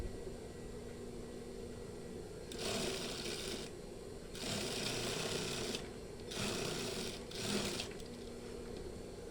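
Quiet bursts of sewing machine stitching on a batik shirt with lining fabric, four short runs separated by pauses over a faint steady hum, no talking.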